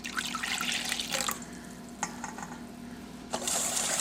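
One cup of 100% pineapple juice for a steak fajita marinade splashes and trickles steadily into a bowl, close and fairly loud, with brief clinks and a final stream of pouring.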